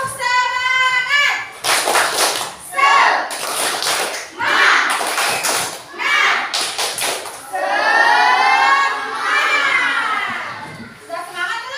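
Schoolchildren in a classroom do a rhythmic clapping chant, the tepuk semangat, with bursts of sharp, close hand claps in patterned groups alternating with their lively chanting voices.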